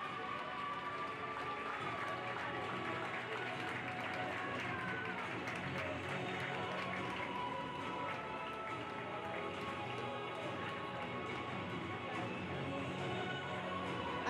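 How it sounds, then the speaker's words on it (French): An outdoor crowd applauds the French dressage champion at a prize-giving, faint and distant, with steady continuous clapping throughout and a voice over it. "Et vous pouvez l'applaudir encore plus fort. Voici la championne de France."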